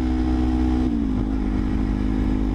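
A Honda CBR250RR sport motorcycle hums steadily while being ridden. Its engine drone dips in pitch briefly, as if shifting gear, then settles back into a constant loud whir.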